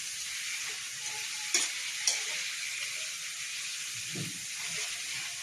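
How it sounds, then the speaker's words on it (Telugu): Steady sizzling of bitter gourd frying in a pan, with a couple of sharp clinks of a utensil stirring. "మళ్ళీ ఒకసారి ఫ్రై చేస్తున్నా"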